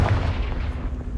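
Confringo spell blast in Hogwarts Legacy, a short booming explosive burst that rumbles low and fades within about a second, no talking.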